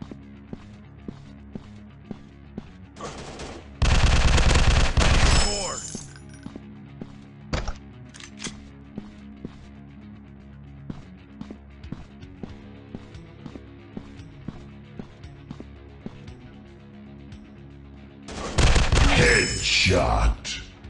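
Gunfire in the robot first-person shooter game Counter Terrorist: two loud bursts of shots a few seconds and far apart, with sparse sharp clicks and taps in between.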